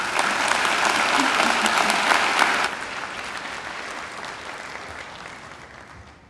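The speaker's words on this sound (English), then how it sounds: "I think David deserves another great round of applause" A graduation ceremony crowd claps for a graduate, a dense, loud wash of applause that carries for a few seconds, then abruptly thins to a quieter lingering patter that tapers off toward the end.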